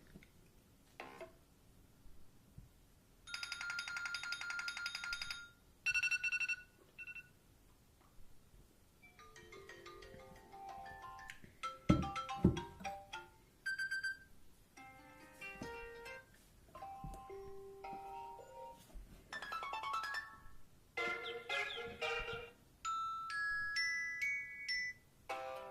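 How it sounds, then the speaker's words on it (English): Assorted iOS 7 ringtones and alert tones play one after another from an iPhone 4: bright chiming melodies, marimba-like plinks and short jingles, separated by brief pauses, loud and clear with no talking. "so these are new iOS 7 ringtones"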